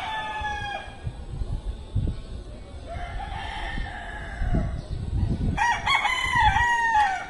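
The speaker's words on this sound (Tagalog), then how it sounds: "ingay kasi ng manok eh." A rooster crows twice, fairly close, its long rising calls standing out over a noisy outdoor background with scattered low thumps.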